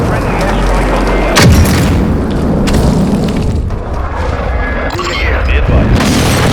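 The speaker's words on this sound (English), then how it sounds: "Friendly airstrike on the way." A friendly airstrike in Call of Duty: Modern Warfare II, with heavy booming explosions and rumbling blasts, loud and close, layered over ongoing battlefield noise, with a sharp impact near the start and radio-style voices.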